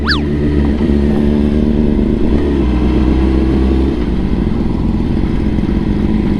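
A big bike motorcycle revs hard during a wheelie, a loud close engine roar with a rising whine at the start that settles into a steady throbbing drone.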